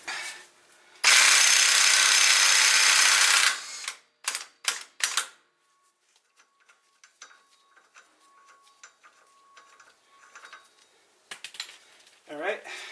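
A power tool undoes the rear axle nut on a Lexus IS300, a loud continuous burst of about three seconds followed by several short sharp bursts, then quieter clinks and handling sounds.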